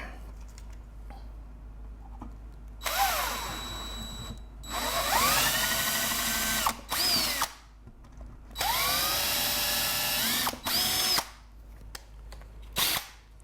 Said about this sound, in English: Now that I have my 2 holes drilled